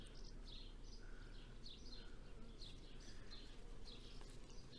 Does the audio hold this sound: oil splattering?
no